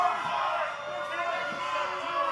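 A wrestling event crowd roars and jeers in a constant, dense wash of noise, with a commentator's voice over it.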